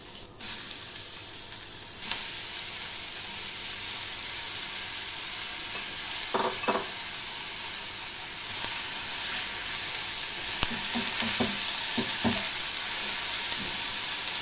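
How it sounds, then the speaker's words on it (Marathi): Grated bottle gourd frying in a spiced tempering makes a loud, constant sizzle up close, with intermittent scraping and tapping as a spoon stirs it in the pan; no one speaks. "ह्या फोडणीवर आपल्याला आता घालायचा आहे किसलेला घर दुधी"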